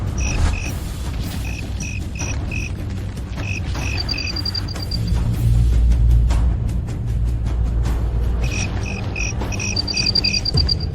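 Fighting crickets in a cricket fight chirp in short repeated high trills, bursts of several pulses that start and stop, heard over a loud, constant low rumble of background noise.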